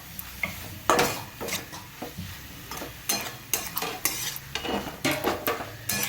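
Gram flour bhaji is stirred and mixed in oil, with a utensil scraping and tapping against the pan in an uneven rhythm over a low sizzle, close and clear, with no voices.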